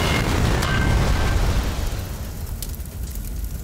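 A loud video game explosion from a crash into a tree, a sustained roaring burst that swells and then slowly fades, with no voices over it.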